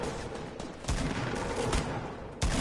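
Rapid bursts of gunfire from a PS4 shooter game, several loud sharp shots standing out over continuous fusillade-like game noise, with no talk over them.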